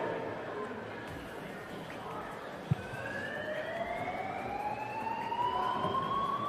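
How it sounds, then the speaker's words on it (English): A fire alarm sounds at an indoor swimming pool during a national swimming championship finals session, its rising tones sweeping steadily over a loud, echoing crowd hubbub. "it's what you call a fire alarm in the middle of the championships."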